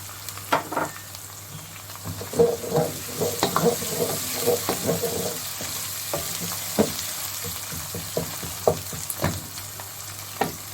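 Cumin seeds frying in hot oil for a zucchini and mutton mince dish, a constant close sizzle with repeated scraping stir strokes in the pan.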